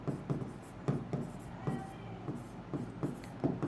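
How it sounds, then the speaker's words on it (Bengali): Writing on a board during a classroom English lesson: quick, rhythmic scratchy strokes and taps, fairly close, continuing steadily with no clear speech. "এই যে লিখে দিচ্ছি"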